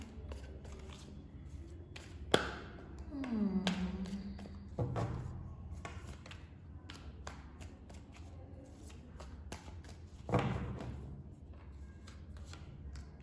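Tarot cards are shuffled by hand, soft repeated papery riffles and taps with a few louder slaps and snaps, quiet and close, with occasional faint background sounds.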